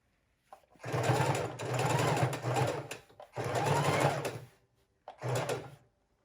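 A sewing machine stitches through a bulky fabric book cover in three separate runs of steady, close whirring, each broken by short pauses while the work is pivoted at the corners.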